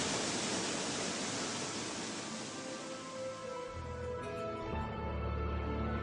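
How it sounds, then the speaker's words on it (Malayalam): A waterfall roars as a steady broadband rush of falling water, continuous and fairly loud with no voices, with low tonal sounds entering toward the end. "വെള്ളം ചാടുന്ന ശബ്ദം നിങ്ങൾക്ക് കേൾക്കാനാകുന്നുണ്ട്."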